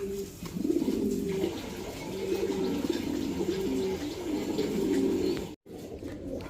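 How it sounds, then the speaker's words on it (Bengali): A male velvet shil pigeon coos close by in a steady, repeating run of low, throaty calls that swell and fade, with faint background hiss and no talk. "মার্শাল্লা এক পিস বেলভেট শিল কবুতর এটা একটা নর কবুতর"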